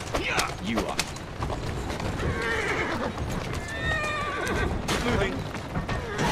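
A horse in Assassin's Creed Syndicate neighs clearly and loudly with clip-clopping hooves and creaking carriage sounds, while a player speaks over the game audio.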